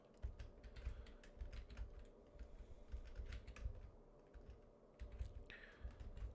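Rapid typing on a computer keyboard, steady clattering keystrokes continuing throughout, close and fairly soft, with no talking.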